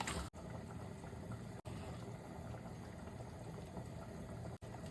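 A pot of goulash bubbles steadily at a low, even simmer, a soft continuous burble broken by a few brief dropouts.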